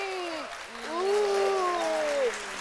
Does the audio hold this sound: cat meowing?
no